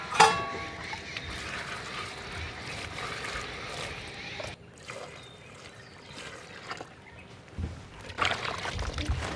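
Garlic cloves are rinsed under running water, with a continuous splashing trickle, uneven bursts of pouring and some handling clatter close by.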